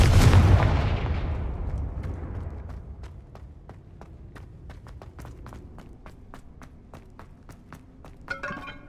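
A Confringo spell blast in Hogwarts Legacy erupts as a loud booming explosion that decays slowly, followed by a rapid series of sharp ticking impacts and a brief crackle at the end.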